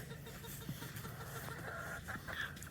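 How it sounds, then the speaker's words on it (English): Black Old English game hens cluck softly and intermittently at a distance among trees, faint over a steady outdoor background hum. "There's my black Old English game hens"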